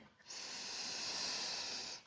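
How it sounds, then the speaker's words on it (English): A long, steady exhale during a yoga session: a soft breathy hiss of about two seconds that rises in and fades out, close and alone. "Exhaling."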